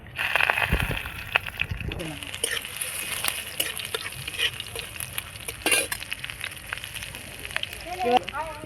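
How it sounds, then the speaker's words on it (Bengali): Ginger, whole garam masala, a bay leaf and green chilli frying in oil for a papaya ghonto, a steady sizzle with occasional stirring clatter, while someone talks over it throughout. "আদাটা একটু ভাজা ভাজা করে নিয়েছি"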